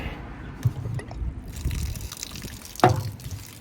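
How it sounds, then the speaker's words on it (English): Water drains out of a vehicle's water tank on a Simpson Desert trip, trickling and splashing in a steady flow with small drips and a brief louder gush near the end. "I'm just going to let the water drain out of those tanks"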